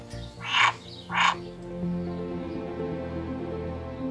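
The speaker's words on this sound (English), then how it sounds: "there's our wildlife pond and our 4 frogs" Frogs in a garden wildlife pond give two distinct, fairly close croaks about half a second apart, followed by a quiet, low steady background.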